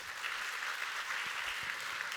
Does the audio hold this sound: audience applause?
yes